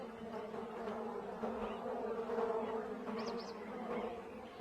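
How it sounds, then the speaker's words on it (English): Bees buzzing in a low, steady drone, fairly faint and close, with a few individual insects passing nearer. "She tries a pit, but finds it full of bees."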